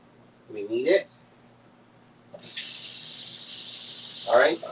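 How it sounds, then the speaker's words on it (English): Cooking spray is misted into a baking pan for Betty Crocker fudge brownies as a steady, bright aerosol hiss lasting about two seconds, with someone speaking briefly before and after it. "So we're gonna spray."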